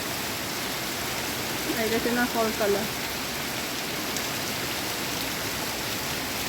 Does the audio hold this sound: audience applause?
no